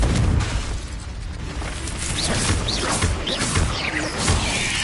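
A Confringo blast spell explodes in Hogwarts Legacy with a loud, dense boom, then a rumbling, crackling tail of debris and magical effects over several seconds.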